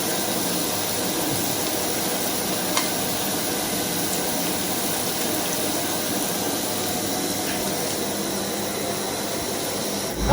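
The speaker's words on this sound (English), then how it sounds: "let the onions cook until they're golden brown" Onions frying in a pan for chilli chicken give a steady, unbroken hiss that stays even and close throughout, with no voices.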